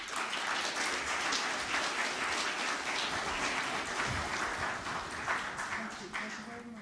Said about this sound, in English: Let's give her a more heartier clap.